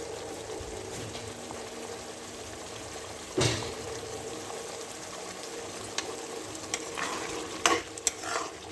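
Potato chunks fry in a pan of masala and ghee, giving a steady soft sizzle with occasional louder scrapes and stirring knocks, heard close up with no talking.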